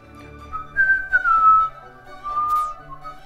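A person whistling a short wavering tune close by, a few sliding notes with brief pauses between them.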